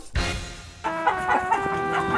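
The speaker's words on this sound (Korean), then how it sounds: "제작진을 향해 날아든 닭의 공격" Chickens in a henhouse cluck and squawk in agitation, one sharp outburst followed by a busy chorus of harmonic clucks and calls, close and fairly loud.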